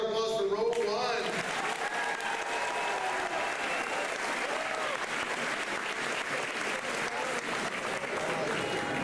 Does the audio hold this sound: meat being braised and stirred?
no